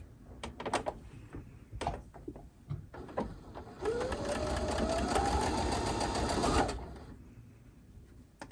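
A sewing machine fitted with a J-foot stitches a paper-pieced quilt block at a quarter-inch seam, one steady whirring run of a few seconds, preceded and followed by clicks and handling knocks.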